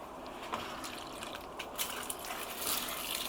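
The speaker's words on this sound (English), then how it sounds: "Just give them a little bit of water," Water trickles and splashes steadily onto soil and leaves in a raised garden bed, close up, with small drips and a gentle pour, no talking.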